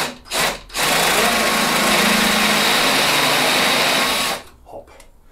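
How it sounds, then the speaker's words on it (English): A drill bit grinds steadily into an iron part held in a grip vise, a loud continuous whine lasting about three and a half seconds, framed by brief handling noises before and after. "Carefully drilling."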